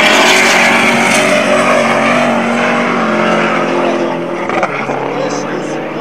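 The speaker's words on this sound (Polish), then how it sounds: "już odpalony jest ten silnik V8 z Corvety" A Nissan drag car with a Corvette V8 and a large turbo runs loudly at a quarter-mile drag racing event on an airfield, a steady powerful engine drone that eases a little near the end, with speech over it.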